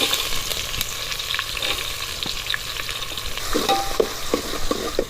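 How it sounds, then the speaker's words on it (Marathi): Finely chopped onion frying in oil with mustard seeds, cumin and curry leaves for misal, cooked over a wood-fired stove: a steady close sizzle with frequent scraping stirs that grow busier near the end, with no talking. "कांदा छान असा लालसर परतून घ्यायचा आहे"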